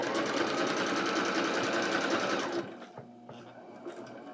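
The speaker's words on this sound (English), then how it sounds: "I set my machine on zigzag, and I went ahead and sewed down the ribbon" A sewing machine set to zigzag stitches ribbon onto card. It runs with a loud, steady mechanical whir and rapid clatter for about two and a half seconds, then stops, leaving faint handling sounds.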